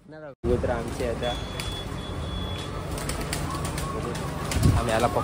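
Pigeons being handled and caught outdoors, with wing flaps and soft cooing mixed into continuous background noise and nearby voices talking throughout.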